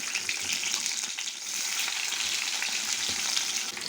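Onions sizzle steadily in hot oil with shahi jeera, a dense, continuous frying hiss that stays loud and even throughout, with no voices.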